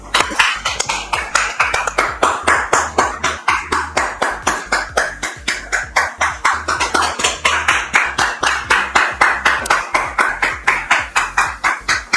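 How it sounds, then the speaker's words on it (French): Audience claps during an introduction, a regular rhythmic beat of hand claps in unison, fairly close and sustained for the whole stretch. "Sous vos applaudissements, s'il vous plaît."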